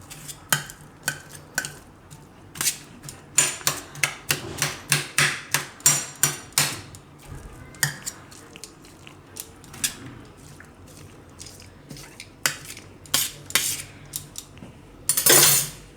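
A spoon mixes bitter gourd chutney with onion in a bowl, making clustered clinks and scrapes in bursts with short pauses between them, close and fairly loud with no talking.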